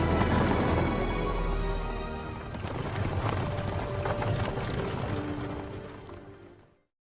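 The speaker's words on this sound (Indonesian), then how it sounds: "Henry mengajak Elodie ke tempat ritual dengan menaiki sebuah kereta kuda." Steady clip-clop of horse hooves pulling a carriage, continuous and fairly close, with rumbling wheels underneath, fading out at the end.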